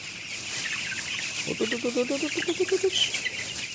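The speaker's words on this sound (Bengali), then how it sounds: "মুরগিগুলা একদম শুয়ে আছে তো একটু বিরক্ত করি ওদের" Broiler chickens on a sand-floored farm at night, clucking in a rapid run of short repeated calls that builds in the second half, close by over a steady background hum.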